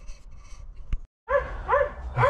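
Dogs bark and yip close by in short, repeated bursts, after a muffled stretch that ends in a sharp click and a brief silence.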